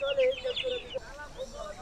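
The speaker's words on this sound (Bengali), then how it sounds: "এটা কি মুরগি বাচ্চা? কি মুরগি এটি?" Chickens cluck at a busy rural market beside a river, short close clucks repeating in an uneven rhythm over a bed of background chatter and crowd noise.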